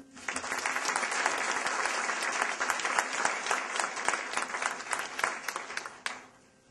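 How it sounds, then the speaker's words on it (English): Hospital event audience gives a round of applause, full dense clapping that swells quickly, holds steady for several seconds with a few sharper individual claps standing out, then fades and stops. "Please join me in a round of applause for the Imam Yahya Hendi"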